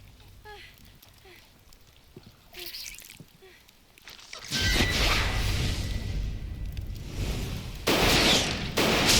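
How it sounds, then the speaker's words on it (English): Gunfire and impact bursts from the Resident Evil 0 HD video game, loud broadband blasts in two dense stretches after a quieter opening with scattered sound effects. "Nice shooting, Billy."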